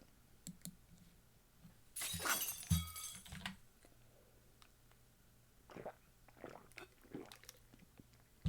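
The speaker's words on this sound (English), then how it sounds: "The sound of glass breaking." Glass shattering in the visual novel game Fate/Stay Night, one bright crash with tinkling shards around the middle, set among faint scattered clicks and quiet background.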